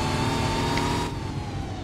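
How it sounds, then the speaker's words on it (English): A car engine in a Roblox driving game revs loudly and steadily for nearly two seconds, then drops slightly in intensity as the synthetic motor tone carries on alone. "I like the car sounds, car backfires, that all sounds good."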